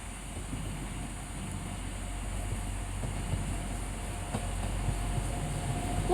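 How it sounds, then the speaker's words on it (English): A Transport for Wales Class 175 diesel train arriving at Crewe makes a faint, low, steady rumble with a gradual rise in loudness, heard alone without talk. "Now arriving is the 12:24 Transport for Wales service from Milford Haven to Manchester Piccadilly, being worked by a class 175."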